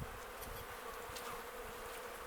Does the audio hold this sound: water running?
no